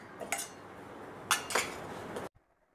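Several hard, sharp clattering knocks in quick succession as pitted dates drop into a mixer-grinder jar, then an abrupt cut to near silence.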